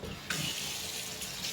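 A kitchen tap runs as water testing pens are rinsed under the stream, a steady close hiss of running water that surges briefly as the pens meet the flow.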